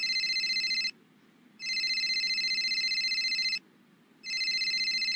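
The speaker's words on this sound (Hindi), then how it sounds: "इस वक्त क्यों कॉल आ रही है?" A phone rings in two long electronic bursts separated by short silent gaps, clear and fairly close, with a third ring starting at the end.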